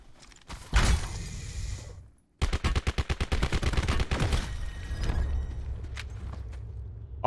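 Gunfire in Call of Duty Blackout: a single heavy shot and its echo, a brief lull, then a rapid automatic burst of a dozen-plus sharp reports, followed by scattered distant shots and a lingering rumble.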